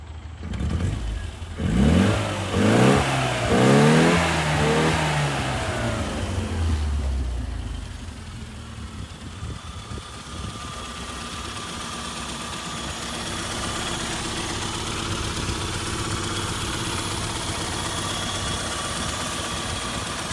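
A 1989 Rover Mini's carbureted engine revs up and down a few times in loud, close blips, then drops back to a steady, droning idle that carries on alone.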